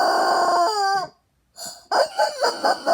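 A rubber chicken toy squeezed by hand lets out a long, loud, strained squawk that stops abruptly, then after a short silence gives a rapid series of wheezing honks close to the mic.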